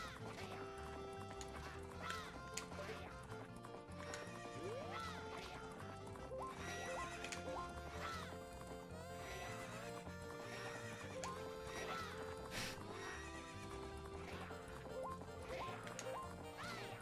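A horse in the video game Horse Girl gallops in a steady clip-clop rhythm and neighs repeatedly over looping game music, with quacking sounds mixed in and no talk.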